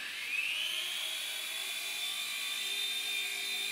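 A Genius CP collective-pitch RC helicopter hovering and flying indoors, its small rotor and motor giving a steady high whine that holds at a constant close, even level.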